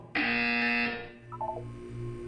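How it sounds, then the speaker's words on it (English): A single harsh electronic buzz in the video game Portal 2 sounds loudly for under a second, followed by a low droning hum and a few soft descending tones. "You will hear a buzzer."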